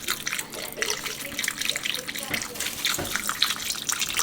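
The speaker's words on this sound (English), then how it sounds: "we're just going to pour some chicken broth in here" Chicken broth poured into a pan for gravy, a steady splashing trickle with gurgling bursts, heard fairly close under occasional talk.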